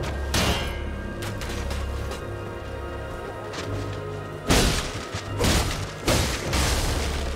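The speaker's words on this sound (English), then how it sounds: "Why are you guys shooting me so much?" Enemy gunfire aimed at the player in Elden Ring: a low rumbling game soundscape broken by several heavy booming impacts, two or three loud blasts clustered near the end, with no talking.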